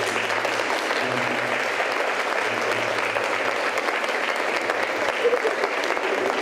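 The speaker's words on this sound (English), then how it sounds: "Give our mayor a great round of applause." A seated crowd applauds the mayor at a Washington, D.C. host-city announcement for World Environment Day 2012, clapping steadily and densely for the whole stretch at an even level, with some faint murmur underneath.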